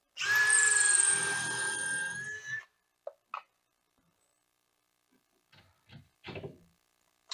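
A power drill whirs steadily for about two and a half seconds while building a built-in desk, then stops, followed by a few scattered clicks and short knocks.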